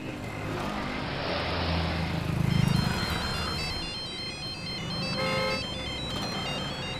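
A phone ringtone plays repeatedly, fairly loud, over a steady background rumble like a moving vehicle.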